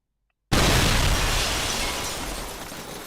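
Bomb explosion sound effect used as a camera effect, a sudden loud blast after a brief silence that then roars and slowly fades over a few seconds.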